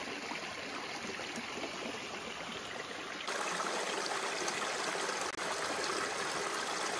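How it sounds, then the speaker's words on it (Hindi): A small stream flows steadily through early morning woods near an old British-era bridge in Haflong, its continuous rushing and trickling close and even throughout, with no voices. "इस स्ट्रीम को क्रॉस करना पड़ेगा हम लोग को।"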